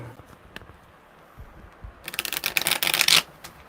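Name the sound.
shuffling tarot cards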